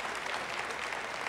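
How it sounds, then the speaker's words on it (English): A church congregation claps together in a dense, steady burst of applause, loud and close, with no talk over it. "You're going to clap, clap"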